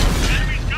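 A tank cannon in World of Tanks fires a single loud, sharp blast that cuts off almost at once, with a voice speaking over it.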